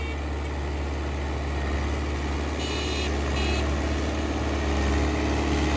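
A New Holland 850 tractor engine runs on hard farmland with a rotavator, a steady loud idling drone with a constant rumble and no break.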